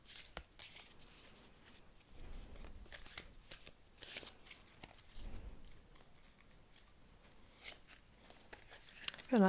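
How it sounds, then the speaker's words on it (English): Tarot cards are shuffled close by in quick riffling bursts and soft slaps, fairly quiet, with brief pauses between passes. "So let's shuffle our final deck and see what it has to offer."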